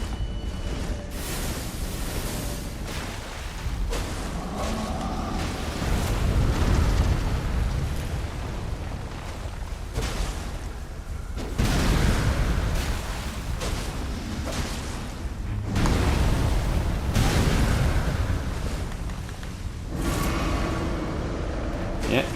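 Booming spell explosions from Elden Ring Shadow of the Erdtree pound repeatedly through a dense, loud game mix, with bursts swelling every few seconds and a voice talking over the action.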